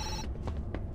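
In the Zoochosis video game, a telephone rings in a brief high trill at the start, over a dense, noisy game background with a few soft knocks afterward.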